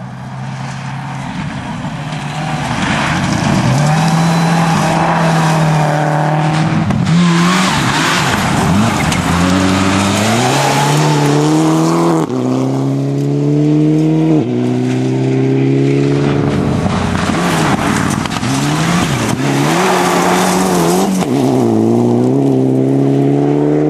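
A rally car at the Mulgi rally moves off again, its engine revving hard and loud through repeated rising gear pulls while tires squeal and skid on the surface, continuous and close.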